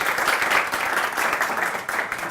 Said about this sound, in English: Also applause, please.